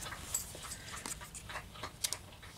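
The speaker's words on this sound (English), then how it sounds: "My dogs are making noises in the back." Dogs whimper and pant faintly in the background of an indoor room, with soft, scattered breathy sounds and short whines spread across a few seconds.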